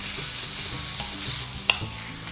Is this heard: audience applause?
no